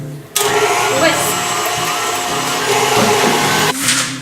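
Electric mixer whisking room-temperature egg whites in a bowl for French macarons, a loud steady whirring drone that starts abruptly and runs continuously before easing near the end, with a voice talking over it.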